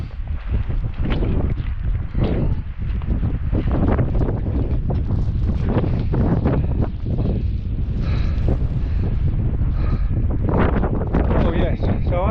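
Strong wind roars steadily against the microphone on an exposed Scottish hillside, a continuous loud buffeting with gusts that swell and ease throughout.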